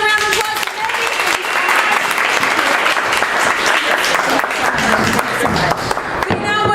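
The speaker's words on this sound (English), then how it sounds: "Let's give another round of applause to" Audience applause during a live improv comedy show, loud and dense clapping from a crowd that stays strong and sustained from start to finish, with scattered voices mixed in.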